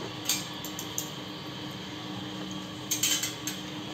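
Dalda ghee goes into a metal pan for suji halwa, with a few sharp, close metallic clinks of a spoon against the pan spread over a quiet background.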